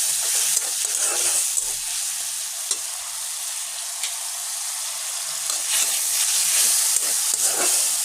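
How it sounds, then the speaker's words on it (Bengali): Spices frying and being stirred in a pan: a loud, dense, continuous sizzle with steady hiss and occasional scraping strokes, close up, with no voices. "ভালো করে মশলা কষিয়ে নিব।"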